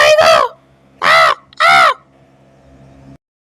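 A crow caws three times, loud and close, with one harsh call followed by a brief pause and then two more in quick succession before quiet.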